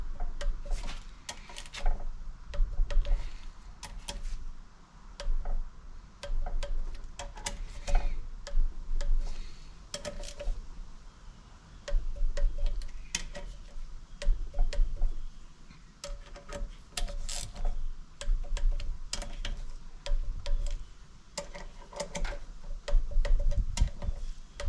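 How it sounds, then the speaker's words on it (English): Repeated sharp clicks and metallic ticks from a torque wrench set to 106 inch-pounds, tightening cylinder head bolts on a GMC Canyon 3.5 engine, heard close up in an irregular steady stream over low workshop hum. "And as I'm torquing this, I'll go in the order in which I would tighten them down gradually"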